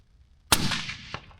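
A single rifle shot fired during an accuracy test cracks sharply and loudly, then its echo rolls off and fades over about a second, with a faint later knock.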